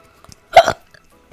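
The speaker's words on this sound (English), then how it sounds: "That was like a hiccup and a burp at the same time." A single hiccup that blends into a burp, a short voiced gulp near the mic with a brief second pulse after it, heard alone in a quiet room during a Pokémon card opening.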